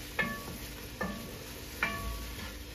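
Spoon scraping and stirring through a white sauce in a pan with salt, thyme and white pepper added, three distinct scraping strokes spaced about a second apart over a faint low background.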